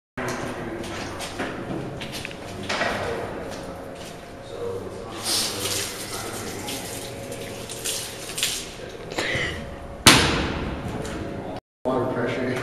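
A hose sprays water to rinse the outside of a wine barrel in a winery cellar, a loud continuous rushing hiss with shifting splashes and one sharp burst near the end.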